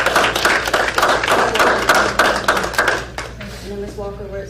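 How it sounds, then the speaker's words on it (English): Applause breaks out at a school board meeting: many hands clapping steadily for about three seconds before tapering off, followed by quieter room sound. "So I'd like to give a round of applause and congratulations"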